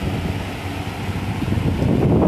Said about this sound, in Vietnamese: Đấy, chiếc đảo gió lên xuống của chúng ta đang hoạt động.